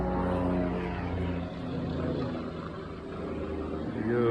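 A low propeller aircraft or helicopter drone passes overhead at a residential build site, a steady broad rumble with harmonic hum that swells, dips midway and rises again, heard alone without talk.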